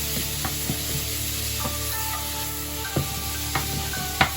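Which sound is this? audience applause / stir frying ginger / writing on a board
stir frying ginger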